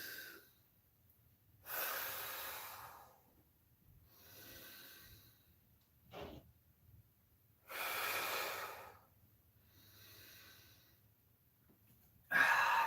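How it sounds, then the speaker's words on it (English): Deep, slow breaths during a yoga session come in distinct, evenly paced inhales and exhales separated by quiet pauses, close to the microphone, with a sharper intake near the end. "Deep breaths in, deep sweeps up."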